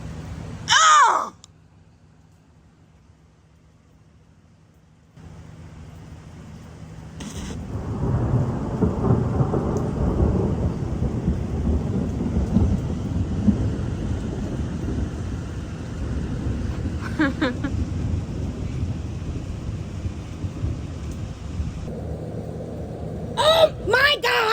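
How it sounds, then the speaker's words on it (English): Thunder cracks and rumbles through a severe Texas thunderstorm, a sharp burst early, then a long, loud, rolling rumble with rain and wind noise, and voices cutting in at moments. "It's gonna crack a thunder!"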